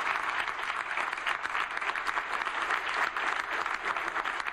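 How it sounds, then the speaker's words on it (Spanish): An audience on its feet giving a standing ovation: dense, continuous applause at an even level throughout, heard from within a large hall with no voices standing out. "Se pusieron en pie y aplaudieron."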